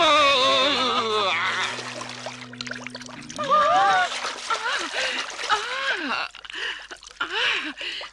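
Cartoon characters tumbling into water produce a splash and splatter amid loud animated voices and music, with several watery bursts in the second half.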